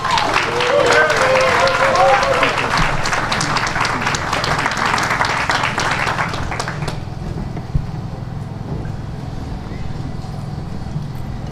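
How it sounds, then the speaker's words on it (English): Outdoor crowd applause at a ribbon cutting ceremony for apartments in Auburn Gresham: dense, loud clapping for about seven seconds, then it dies down to quieter crowd noise, with voices heard alongside. "let's give a round of applause"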